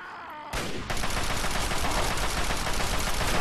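Gunfire in the video game Fallout 3: a rapid, sustained burst of automatic shots starts abruptly after a short quiet moment and stays loud and dense until the end.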